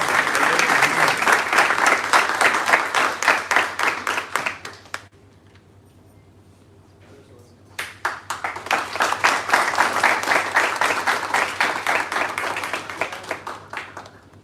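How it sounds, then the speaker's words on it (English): An audience at a company townhall claps loudly and steadily for about five seconds, goes quiet for a few seconds, then breaks into a second long round of applause that gradually fades. "so let's have a round of applause for them"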